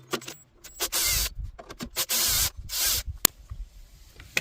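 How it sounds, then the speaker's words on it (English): Socket wrench ratcheting bolts out on a Honda GCV160 mower engine, several quick bursts of close, sharp clicking separated by short pauses and small metallic knocks, with no talking. "I'm going to take these 2 bolts out, take this plastic cover off."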